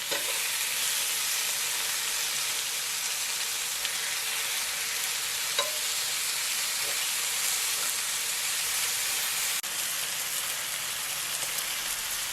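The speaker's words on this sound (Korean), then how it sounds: "삼겹살 400g인데요. 살짝만 먼저 익혀주겠습니다." 400 g of pork belly searing in a pan, a steady broadband sizzle of hot fat that holds evenly throughout, with a few faint pops and no talking.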